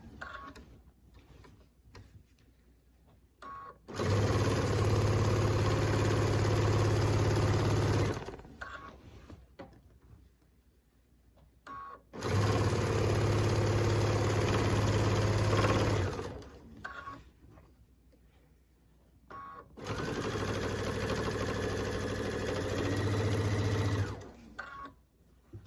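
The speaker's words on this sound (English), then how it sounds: "I'm going to keep sewing until I get close to the end of a corner." A sewing machine stitches quilt binding in three sustained, steady runs of several seconds each, its motor whirring loud and close, with quiet pauses and small handling clicks between bursts.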